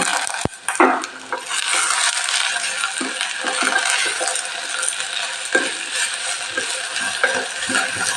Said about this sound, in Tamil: இது நல்லா ஃப்ரை ஆகட்டும்